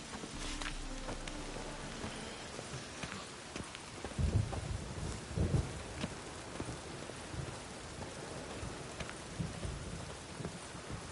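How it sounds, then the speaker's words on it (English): Thunderstorm in The Witcher 3, steady rain with rumbles of thunder rising briefly near the middle, and faint hoof-like clatter underneath. "A storm, damn it."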